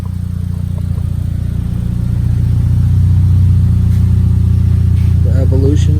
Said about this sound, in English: Got this Mitsubishi Evo.